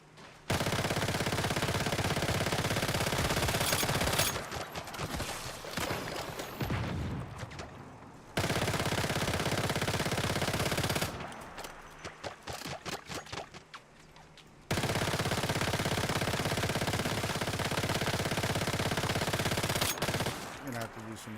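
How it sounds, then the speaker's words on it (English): Rapid automatic turret gunfire in the video game Once Human, loud bursts of sustained rattling fire separated by brief pauses, continuing in long stretches through most of the scene. "The fuck are you shooting at?"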